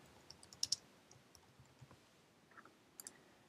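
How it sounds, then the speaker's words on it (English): Typing on a computer keyboard while adding text annotations, a few faint, quiet key clicks in short irregular bursts. "and start typing."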